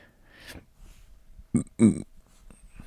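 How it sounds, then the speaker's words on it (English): Two short, throaty burps from a person close to the microphone, the second louder, after a soft breath and quiet pause. "Sorry, had to burp a little bit."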